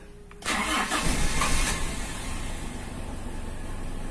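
A Toyota Kijang engine is started by push button: a sharp crank catches about half a second in, then settles into a steady, moderately loud idle with no talk over it.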